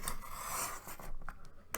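Paper being cut on a We R Memory Keepers Slimline Punchboard, a short scraping, rasping slide of the blade lasting about a second, followed by a faint click, close and quiet.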